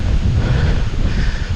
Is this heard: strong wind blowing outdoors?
yes